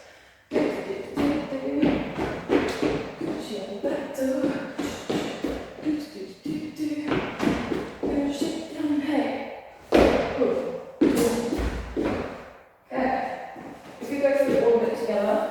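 Feet thump and stomp on a floor during a Stray Kids 'Back Door' K-pop dance routine, with a jump off one foot; scattered dull thuds sound under near-constant talking.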